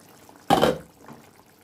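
A little water is poured into potatoes cooking in a pan, giving one short, loud splash and sizzle that fades quickly, with a fainter second gurgle just after.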